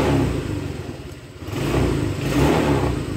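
A Honda Vario 125 scooter engine runs steadily in a workshop, with a low rumbling idle that swells slightly and then settles. The engine is close and fairly loud, and no voices are heard.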